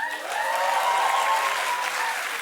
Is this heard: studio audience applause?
yes